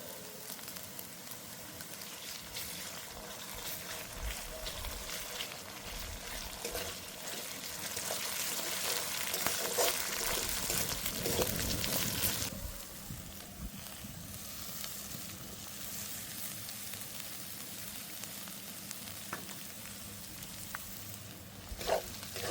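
Pork sizzles with ginger paste in a pan, a continuous close frying hiss that swells for a few seconds midway, then settles back to a steady crackle with occasional small pops.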